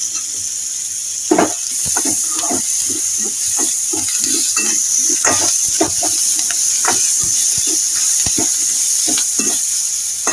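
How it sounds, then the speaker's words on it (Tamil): Garlic, ginger and green chilies being stirred in a pan for a roasted-gram chutney, with steady loud hissing sizzle and repeated scraping stirs throughout, close and continuous. "நல்லா மிக்ஸ் பண்ணி விட்டுக்கலாம் பூண்டும் இஞ்சியும் சேர்த்துக்கலாம்"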